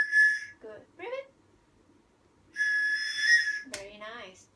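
A whistle is blown in short breathing exercises, two bright, steady shrill tones of about a second each, close and loud, with a person speaking briefly between them.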